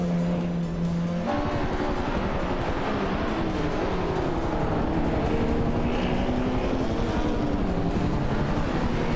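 Race cars roaring through a racing video game, a continuous loud engine drone with rising and falling pitch as gears shift, a sharp change early on, steady and close with no talk.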